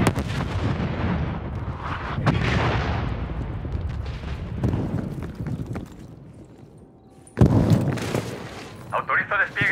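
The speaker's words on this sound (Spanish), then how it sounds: "Ataque inminente de artillería detectado. Aviso interno. Artillería en camino." Artillery shells slam down in a Call of Duty Black Ops Cold War match set in Miami: a run of heavy, rumbling explosions and crackling gunfire, a brief lull, then a sudden loud impact followed by rapid repeated bursts.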